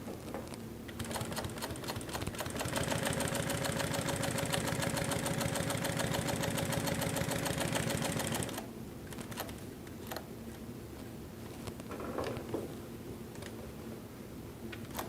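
A Pfaff 145 industrial walking foot sewing machine stitches through two folded layers of 2.5 ounce chrome tan leather in a fast, steady mechanical rattle for about seven seconds, then stops, leaving scattered clicks and light handling.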